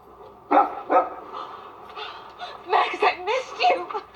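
A dog in a movie scene gives a few short barks and excited vocal sounds, mixed with bursts of chuckling laughter and voices, in quick irregular bursts throughout.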